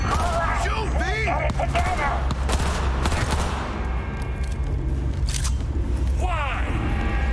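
Gunfire in the Cyberpunk 2077 video game, a dense, continuous volley of shots over loud game audio, with voices and sound effects mixed in throughout.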